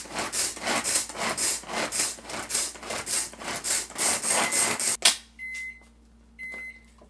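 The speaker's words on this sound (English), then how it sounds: "just use the hand grinder like this, and then you have to just quickly pull it" A pull-cord hand grinder chopping onion for moong dal dosa batter gives about five seconds of quick, rhythmic whirring pulls, close and fairly loud, then a quieter stretch with faint clicks and rattles.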